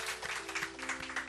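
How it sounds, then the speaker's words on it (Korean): A small church congregation gives faint, brief applause to welcome a newcomer, a soft wash of distant clapping with a low steady hum underneath. "저희들이 박수로 환영해 드리겠습니다"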